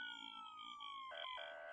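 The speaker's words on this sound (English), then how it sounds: "a police car careens around the corner, blasting down the alley with lights flashing and sirens blaring." A video game police car siren wails steadily at moderate level, its rising and falling tone switching to a faster yelp near the end.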